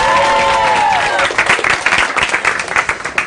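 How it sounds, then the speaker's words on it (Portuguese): Students at a state school give applause for cartoonist Carlos Henrique Iotti, a crowd clapping that starts dense and then breaks into looser, more uneven claps, with a faint tonal sound fading out at the start. "Uma salva de palmas para Carlos Henrique Iotti."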